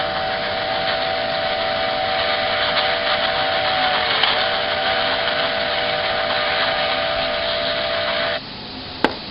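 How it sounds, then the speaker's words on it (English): A steam engine whistle holds a long, steady, shrill tone with a hissing wash underneath, dips briefly in pitch midway, then cuts off abruptly before a short final click. "And Lady whistled too."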